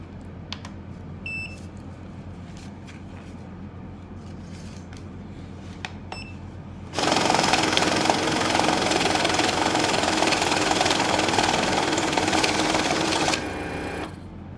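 A banknote counting machine runs a stack of 1,000 taka notes, starting with a few short beeps and clicks, then whirring loudly and steadily for several seconds before it stops abruptly.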